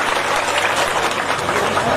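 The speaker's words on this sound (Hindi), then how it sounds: "जोरदार तालियां।" Sustained applause from a crowd at an outdoor election rally in Loharu, dense steady clapping filling the whole stretch at an even, loud level.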